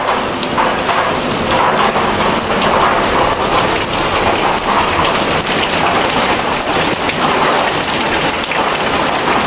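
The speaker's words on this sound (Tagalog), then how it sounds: "Di ba umuulan guys?" Heavy rain pours outside a backyard, loud and continuous, a dense unbroken roar with a faint low rumble suggesting a thunderstorm.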